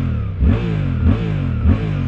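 A 2024 Suzuki GSX-8R motorcycle engine idles steadily and is revved briefly three times in a row, each blip rising and falling quickly, close by and loud.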